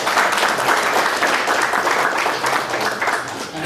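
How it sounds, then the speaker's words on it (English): Sustained audience applause fills a seminar hall on GST law amendments, steady and dense clapping from a sizeable crowd throughout, with no speech over it. "Can we have a round of applause for that?"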